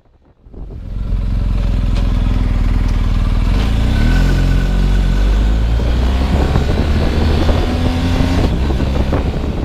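A BMW R 1250 GS Adventure motorcycle engine roars up close as the bike rides along, pitch rising and dropping through smooth quickshifter gear changes under strong wind rush.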